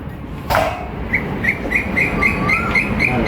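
A bird in a tree in a Bangkok park calls in a steady series of short, bright, high chirps repeated about every quarter second, heard over faint outdoor city ambience with no talk.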